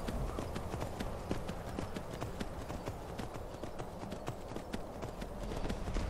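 Horse hooves clip-clop steadily in Skyrim as a mount climbs stairs toward a dungeon, the rapid regular beats loud and close against a dense game backdrop.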